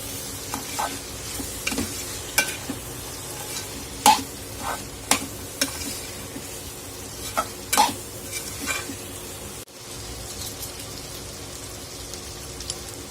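Kadvanchi is stirred into sautéed toor dal in a hot pan, a steady sizzle broken by a series of sharp spatula scrapes and taps against the pan at an irregular pace, close and clear.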